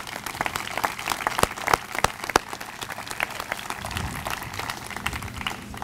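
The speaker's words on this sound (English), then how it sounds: "So let's give our students a round of applause." Audience applause for students at an Ellsworth 125th anniversary celebration: a steady, dense crowd clapping with sharper individual claps standing out, sustained throughout at moderate distance.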